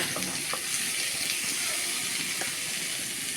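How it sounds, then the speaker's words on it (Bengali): Chopped tomatoes sizzle in hot oil in a frying pan for a fish-head and bottle gourd ghonto, a dense, steady hiss with faint stirring clicks, close and continuous with no talk. "এবারে আমি এখানে ঢেলে দিলাম টমেটো কুচি"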